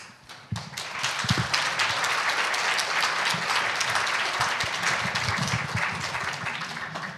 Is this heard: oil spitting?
no